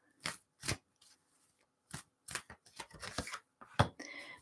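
A deck of tarot cards shuffled by hand in short bursts of papery riffles and flicks, separated by brief pauses, close and fairly quiet.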